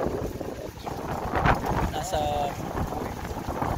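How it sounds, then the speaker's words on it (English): Strong outdoor wind buffets the microphone beside a Royal Enfield Hunter 350 motorcycle, a steady broadband rumble running throughout as someone talks over it. "malakas ang hangin dito"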